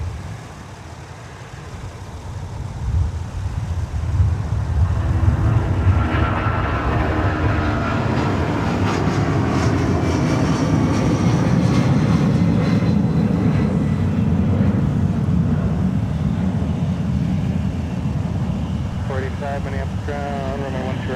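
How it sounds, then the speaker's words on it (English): A Boeing 757 departs for Las Vegas from a wintry Minneapolis airport, its engines rising into a steady, loud broadband roar that holds throughout, with a faint crackle of radio chatter near the end. "we got our 757 departing now to Las Vegas"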